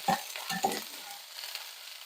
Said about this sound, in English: Just stir it up, level it out again.